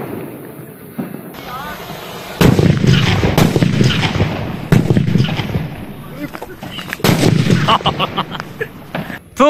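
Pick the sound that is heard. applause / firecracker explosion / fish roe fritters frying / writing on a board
firecracker explosion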